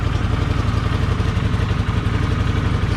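A cold Honda CX500 motorcycle engine idles steadily up close, a loud, even mechanical thrum with a light clattering edge, alone and unchanging throughout.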